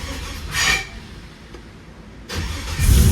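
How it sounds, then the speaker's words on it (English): A 1967 Chevelle with a Gen III engine swap, sitting since December on a weak battery, cranks briefly, then catches and fires into a rumbling idle that swells into a louder rev. "the car starts right up"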